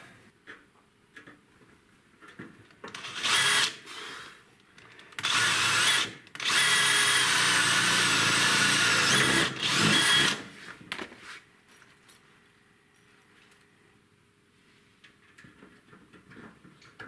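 A drill sets rivets in concrete water tank forms, running in two loud whirring bursts of a few seconds each with brief gaps. Quieter clicks and handling noises come before and after.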